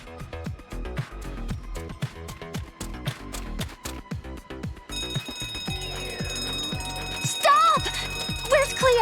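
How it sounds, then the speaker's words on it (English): A fire alarm bell rings loudly and continuously in the school of the video game Monster High: New Ghoul in School, a rapid mechanical ringing that persists alongside game music and shifting background sounds. "Ghouls, that's the fire alarm!"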